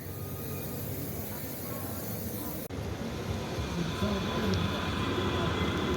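A steady rumble of a tram rolling past on a city street in Frankfurt, continuous and fairly loud, with a faint high screech and background voices.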